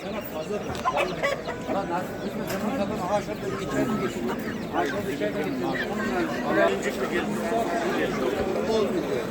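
Roosters and hens at the Kırıkkale poultry market cluck and crow in a dense, continuous flock chorus, with people talking over the birds throughout.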